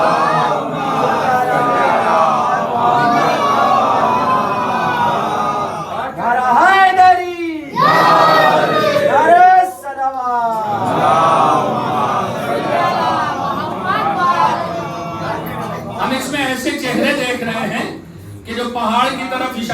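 A congregation at a majlis in Lucknow loudly recites salawat in unison, a swelling chorus of many voices that rises and falls in waves, close and full, with some scattered shouting.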